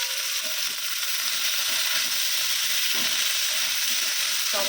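Panch phoron and chilies sizzling in hot oil, a loud continuous crackling fry with occasional stirring scrapes, close up and steady, with faint speech underneath.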